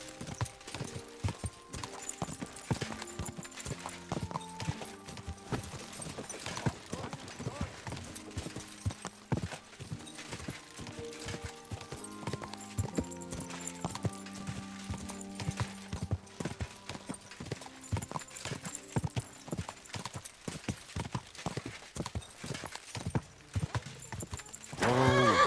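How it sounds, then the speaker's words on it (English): A horse gallops in the video game Kingdom Come: Deliverance II, rapid rhythmic hoofbeats drumming continuously for the whole stretch, with a whinny and game music layered underneath. "Easy, good horse."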